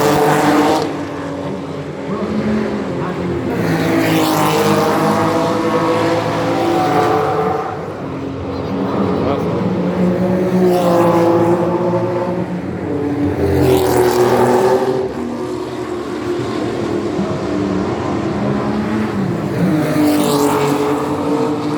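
Porsche race cars roaring past near the finish of a race as the flag falls, engines swelling and fading in repeated loud passes over a continuous mechanical drone.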